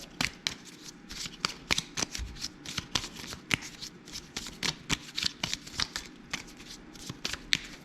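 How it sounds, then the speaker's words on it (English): Rapid crisp riffling of Spruance Leader board-game card decks being shuffled again and again, close up, in quick bursts with short pauses between. "Shuffle my decks"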